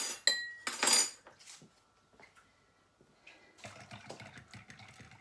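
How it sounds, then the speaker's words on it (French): Metal spoons clatter against a saucepan and glasses while making vegan, sugar-free gummy sweets, with a few sharp clinks up front, then quieter scrapes and clinks. "Je vais enlever les cuillères."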